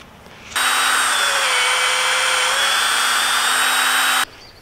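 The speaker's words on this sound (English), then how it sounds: "I might drill just a pilot hole because this center section is just pushing into the wood." A power drill spins up and runs steadily for nearly four seconds at close range, drilling a pilot hole in wood, a constant whirring drone, then stops.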